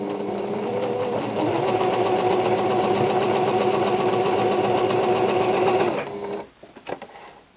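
A sewing machine stitches cream and green quilt fabric pieces together in one long steady run of rapid needle strokes, loud and close, slowing at the start and stopping abruptly near the end.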